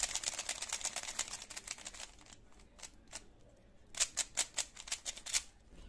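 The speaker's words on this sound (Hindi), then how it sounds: "एंड ये है नॉन मैग्नेटिक मेलोंग 3C की आवाज।" A non-magnetic Meilong 3C speed cube being turned, first in a fast stream of light plastic clicks, then a quieter stretch of sparse clacks before another burst of sharper turns, all close and soft, without speech.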